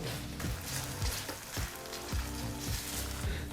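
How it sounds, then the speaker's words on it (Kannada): Raw green peas frying in a little oil for a paneer and green peas gravy, a steady close sizzle with broadband crackle and several soft stirring scrapes, no voices. "ಹಸಿ ಬಟಾಣಿನೂ ಐದು ನಿಮಿಷಗಳ ಕಾಲ ಚೆನ್ನಾಗಿ ಫ್ರೈ ಮಾಡಾಯಿತು"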